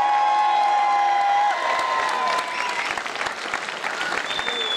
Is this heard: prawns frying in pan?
no